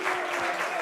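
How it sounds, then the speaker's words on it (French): Audience applause breaks out at an indoor talk-show style gathering, a dense, steady burst of clapping that fills the short moment with no voice above it. "Applaudissements pour elle, s'il vous plaît."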